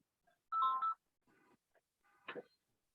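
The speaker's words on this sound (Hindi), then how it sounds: "क्षमा कीजिएगा, एक टेलीफोन बीच में बज गया।" A telephone rings during a Hindi talk about politics and corruption, giving a short electronic warble burst followed by fainter chirps and a brief second trill, fairly quiet with no speech over it.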